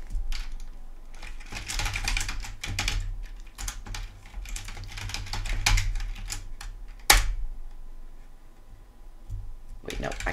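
Rapid bursts of typing on a computer keyboard while entering Windows command-line commands during a repair, clicks coming in uneven runs with brief pauses and one sharp louder tap, a voice speaking intermittently over the keys.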